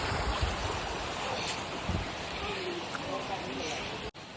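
Stream water rushes steadily along the Girnar trail near Jatashankar, a broad continuous wash heard close and alone, with a few faint knocks.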